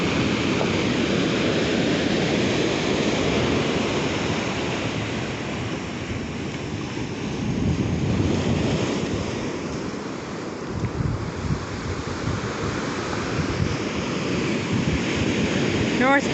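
Ocean surf washes and breaks along North Beach at Port Townsend during a tsunami-affected day in January, a continuous roar of waves mixed with heavy wind buffeting on the microphone and occasional murmured voices.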